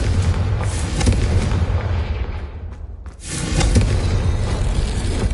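A Confringo blasting spell in Hogwarts Legacy erupts in a loud, booming explosion, followed by a brief dip and a second rumbling blast that fills the rest of the moment.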